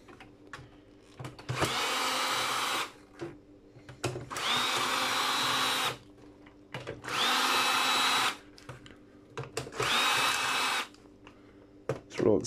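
Power drill backing screws out of scrap electrical parts. Four steady whirring runs of about a second or two each alternate with clicks, clatter and brief pauses, close and fairly loud.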